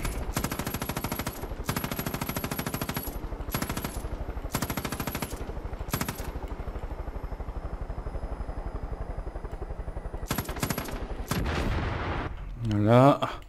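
Rapid bursts of helicopter-mounted machine gun fire strafe a silo in Far Cry 5, coming in several loud rattling volleys separated by short pauses, with a rotor-like drone and a voice talking in between.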